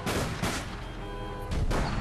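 Gunfire in the online game APB, a dense, loud barrage of shots with broadband bursts near the start and again toward the end, over continuous game noise.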